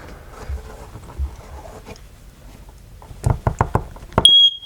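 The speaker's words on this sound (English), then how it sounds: "we're just listening for the audible alarm" Soft scuffs and a quick series of clicks, then a piercing high electronic alarm tone from an RV smoke detector being tested begins abruptly at the very end.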